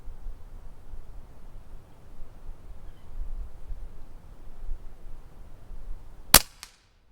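Single sharp, loud crack of an Umarex Notos PCP air rifle shot near the end, rising out of a quiet, low background hiss and followed by a short fading tail.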